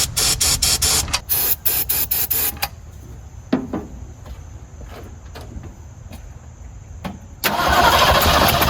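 A Ford 289 V8 cranking with a rhythmic, repeated starter chug that stops, then a pause with a few clunks and a high whine, before the engine roars loudly into running.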